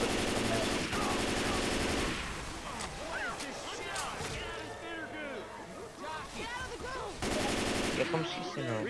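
Gunfire in the video game Left 4 Dead 2, rapid bursts of automatic fire with heavy loud stretches, other in-game effects and a talking voice underneath.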